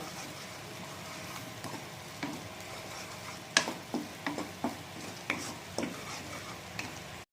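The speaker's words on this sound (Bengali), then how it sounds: "আর একবার পেস্টটা কিন্তু এইভাবে ভালো করে একবার কষিয়ে নিতে হবে" Spice paste being sautéed in hot oil for a vegetarian drumstick (sajna danta) dish, with a low steady sizzle under a run of distinct spoon scrapes and taps against the pan.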